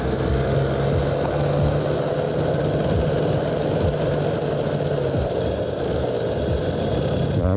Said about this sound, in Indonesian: Di sini suara ngiter-ngiter nih, suara ciri khas kopling kering nih